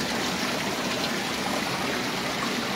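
Water gushes steadily from spring taps at a waterfalls park in Beni Mellal, a continuous, even rushing and splashing with no pauses and no voices.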